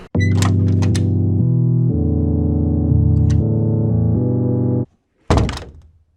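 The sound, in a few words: door opening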